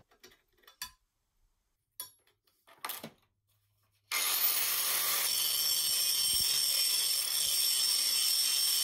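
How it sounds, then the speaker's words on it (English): An angle grinder flattens bronze chain plate castings for a carvel-planked boat, starting after a few scattered taps and clicks, then grinding in a loud, continuous, steady hiss. "So I had to grind off a bit of bronze to flatten them"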